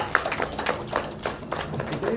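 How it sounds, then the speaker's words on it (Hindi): Audience clapping at an outdoor yoga session with a yoga guru comes as a burst of uneven, brisk hand claps mixed with people talking. "इसके लिए भी जोरदार ताली ठोको।"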